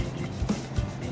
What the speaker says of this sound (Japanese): ヤスリでねやると一瞬で取れるので